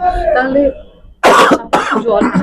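A man coughs sharply twice in close succession right after speaking, loud and close.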